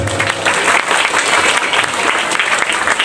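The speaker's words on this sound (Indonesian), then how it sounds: "Tepuk tangan sekali lagi." Audience applause at an Islamic boarding school anniversary celebration, a dense, steady clapping from a large crowd filling the whole stretch at close range, with no speech over it.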